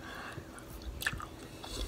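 Soft, wet biting and chewing of a sweet kiwi during a fruit-eating session, close up and quiet, with faint squishy crunches and no talk.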